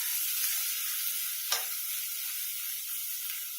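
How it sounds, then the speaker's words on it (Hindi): Pav bhaji mixture frying in a pan, a steady hissing sizzle throughout with one brief scrape of the spoon while it is stirred. "इसको डाल के अच्छे से मिक्स कर लेंगे।"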